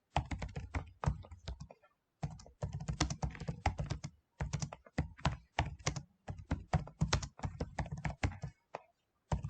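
Fast typing on a computer keyboard during a typing speed test: dense, close, steady key clatter in quick runs, broken by a few short pauses.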